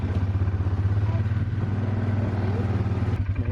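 A four-wheeler rides down a homemade mountain trail, its engine making a steady, close, low pulsing rumble with light clatter, and a voice is briefly heard.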